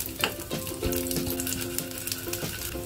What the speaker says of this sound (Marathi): ड्रायफ्रुट्स तुपामध्ये परतून घ्यायचे, अगदी हलके परतून घ्यायचे